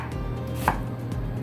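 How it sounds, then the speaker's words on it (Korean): A knife chopping radish and onion on a cutting board in a home kitchen, one crisp close chop standing out above steady low background noise. "무는 깍둑 썰어주시고 양파는 좀 작게 썰어주세요."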